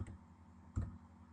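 Two sharp, isolated keystrokes land on a computer keyboard while row titles are typed into a spreadsheet, with a short gap between the crisp clicks and quiet in between.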